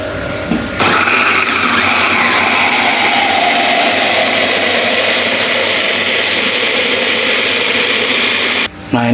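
Kitchen blender grinding a paste of spices with water, a loud steady whirring roar that holds almost unbroken for about eight seconds before cutting off.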